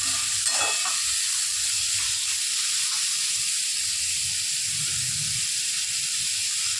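Onion sizzles and fries in hot oil for egg curry, a steady close hiss running unbroken throughout with no voices.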